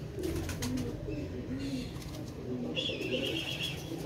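A Sialkoti pigeon coos in low, rolling phrases close by, joined by a few higher chirps and faint background noise, with no talking.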